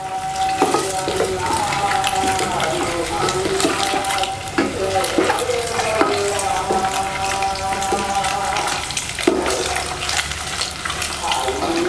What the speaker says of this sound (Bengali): ভালো করে নেড়ে চেড়ে আমরা ভেজে নিব ভালোভাবে।